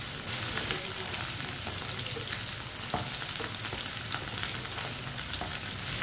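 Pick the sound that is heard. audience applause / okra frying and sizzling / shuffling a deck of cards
okra frying and sizzling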